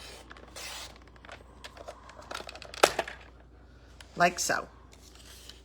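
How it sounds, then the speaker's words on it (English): Scissors snip along a diagonal through paper or cardstock toward a 4-inch score line, giving several close, crisp cuts scattered through steady background noise, with a short bit of speech in between. "I'm gonna go not through the 2-inch, but I'm gonna go through all the way to the 4-inch score line and cut."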